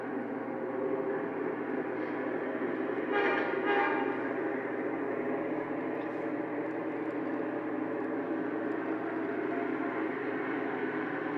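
A model train runs around a layout loop with a faint, steady, rumbling hum, and a short horn toot sounds about a third of the way through.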